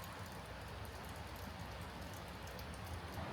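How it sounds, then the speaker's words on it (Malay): Steady rain falling outside at a campsite in Cameron Highlands, a continuous broad hiss with soft patter and no voices. "Sekarang hujan pula kat luar."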